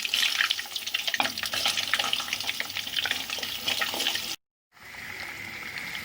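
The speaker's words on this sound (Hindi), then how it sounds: "गाजर और शलजम को फ्राई करते हैं।" Carrots and turnips frying in a pan for shab deg, a steady close sizzle and crackle with scattered pops, cut by a brief silence before the frying resumes slightly quieter.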